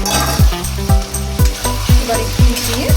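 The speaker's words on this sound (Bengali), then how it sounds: "এবার আমি ভাজা চিকেনটা দিয়ে দিলাম।" Fried chicken pieces drop into a hot pan with soy sauce, setting off a loud steady sizzle broken by a series of sharp scraping clatters about every half second.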